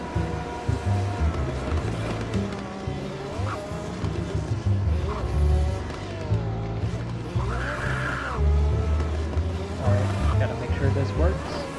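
Cars in a video game test drive with continuous engine roar, revving and tire skids, loud and steady throughout.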